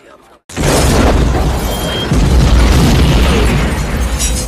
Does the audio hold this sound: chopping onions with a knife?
no